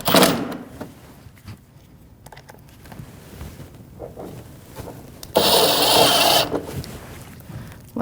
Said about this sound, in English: So now we can take our 3 screws with that 10mm socket head and snug these up.